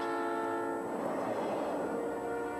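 Southern Pacific railroad train passing close with a sustained, loud chorded horn blast and steady rail rumble underneath, continuous throughout.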